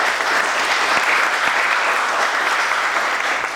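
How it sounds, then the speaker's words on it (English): A studio audience applauds a guest chef on a talk show, a dense, steady wash of clapping that holds at an even level for a few seconds with no voices over it. "Give him a round of applause."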